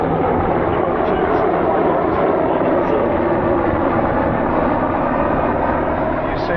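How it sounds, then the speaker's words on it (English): A helicopter flies nearby at an airshow, its rotor and engine making a loud, unbroken roar throughout. "A helicopter."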